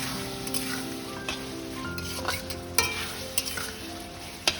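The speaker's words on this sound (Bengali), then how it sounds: "এটা ভালো করে টস করে নিয়ে এর মধ্যে আমি নুডলস যেগুলো সেদ্ধ করে রেখেছি সেগুলো দিয়ে দেবো।" Vegetables for mixed chowmein are tossed and stirred in a hot pan, giving a steady sizzle and frying hiss with occasional scraping taps of the spatula, and no voices.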